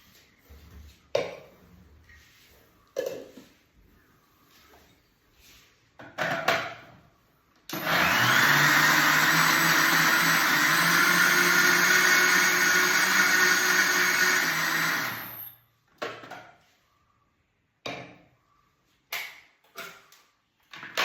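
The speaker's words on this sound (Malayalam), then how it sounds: "അപ്പോൾ അതും കൂടി അരിയാൻ വേണ്ടിയിട്ട് ഞാൻ ഒന്നും കൂടി കറക്കി എടുക്കുന്നുണ്ട്." A mixer grinder whirs loudly and steadily for about seven seconds, with scattered knocks and handling clatter before and after the run.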